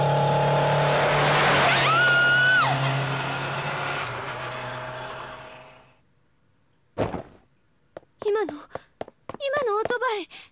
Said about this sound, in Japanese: 今のオートバイ